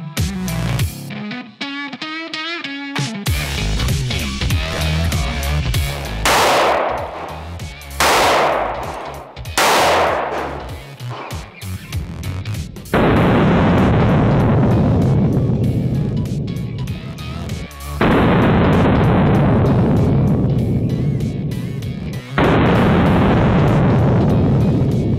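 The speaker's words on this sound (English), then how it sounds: "So we got here with the FMJ, here with the blue tip, and here with the green tip." Gunshots from FMJ, Hornady blue tip and green tip rounds fired at a ballistic vest, heard as a series of loud, sharp reports spaced several seconds apart with sustained noisy stretches between, no talk over them.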